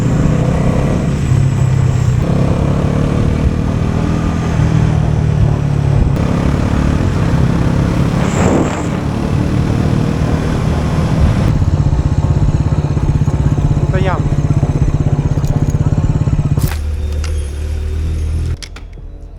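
A motorcycle engine running steadily as it rides, a continuous loud drone with road and wind noise and a few clattering bumps.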